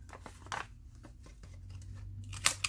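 Scissors snipping paper while making a gardener's diary, a few short crisp cuts close by in a quiet room, with soft rustling between them.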